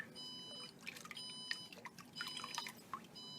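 Faint water trickling and dripping in uneven splashes as warm jewelry is rinsed at a jeweler's bench, with a steady high electronic tone in the background and no voices.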